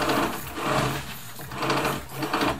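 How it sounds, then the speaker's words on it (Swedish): A sewing machine stitches fabric in a classroom workshop where students make bags, running in repeated bursts of fast mechanical whirring with brief slowdowns between them, close and clear with no talking. "jag kan sy med symaskin"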